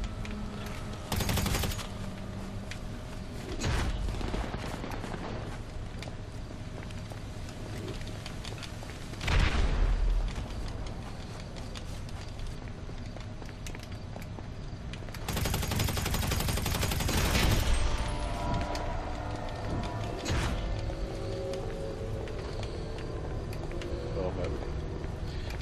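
Gunfire rattles through a GTA Online deathmatch at La Fuente Blanca: dense bursts and single shots with loud booming peaks near 2, 9 and 16 seconds, set against a steady game-engine hum, with voices talking over parts of the action.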